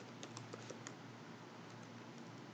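Light, quick clicking of keys on a computer keyboard as a web address is typed, a short burst of soft taps over a steady low hiss, no voices.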